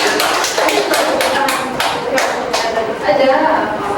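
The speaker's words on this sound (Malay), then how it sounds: "Berikan tepuk tangan." Classroom applause in a Malay-language teaching session: a burst of clapping hands with sharp, repeated claps through the first half, thinning out later while voices murmur underneath.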